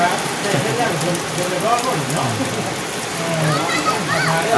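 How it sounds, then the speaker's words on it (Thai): Heavy rain falls steadily with a dense, constant hiss of drops on surfaces, loud and even throughout. "ฝนตกแข็ง"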